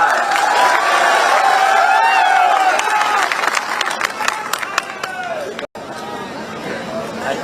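A large crowd at a political election rally claps and cheers loudly, a dense burst of applause and chatter that slowly tapers while sharp individual claps stand out near the end.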